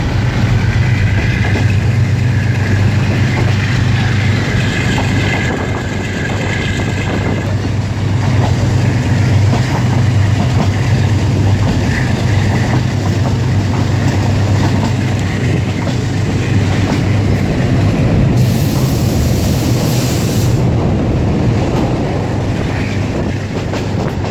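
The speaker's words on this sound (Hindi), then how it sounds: "7 बजे हमारी ट्रेन रावलपिंडी रेलवे स्टेशन से चलने लगी है और अब हम बढ़ने लगे हैं" A passenger train rolls on rails out of Rawalpindi railway station in heavy rain, a steady loud rumble with clickety-clack wheel beats heard from on board, continuous throughout with no talking.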